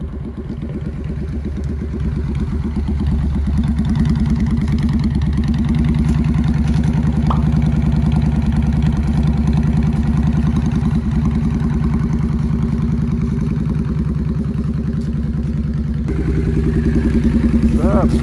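Motorcycle engine running steadily at a low, even throb for the whole stretch, loud and close, with a rise in level near the end.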